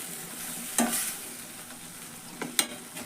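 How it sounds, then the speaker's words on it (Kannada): Coriander is stirred into chavalikai palya frying in a pan, giving a soft steady sizzle with a few sharp scraping clacks of the spoon against the pan, close and without talk. "ಕೊತ್ತಂಬರಿ ಹಾಕಿ ಕಲಸ್ಕೊಂಡು"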